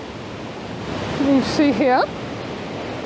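Water flowing under a little stone bridge at Cauldron Falls in Yorkshire, a steady broadband rush and gurgle that runs continuously near the listener while someone speaks briefly over it.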